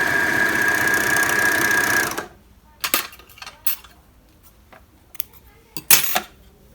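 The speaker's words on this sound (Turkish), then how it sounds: "3 iplik, altı böyle, üstü bu şekilde geniş overlock yaptık." A Bernina L450 overlock machine runs steadily for about two seconds while sewing a wide three-thread overlock seam, then stops, followed by scattered close clicks and small handling knocks.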